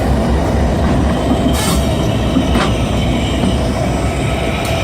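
Union Pacific SD70M locomotive hauling a train past a grain elevator, a loud, steady close-up rumble of rolling cars and rail noise with brief metallic wheel squeals, no talking.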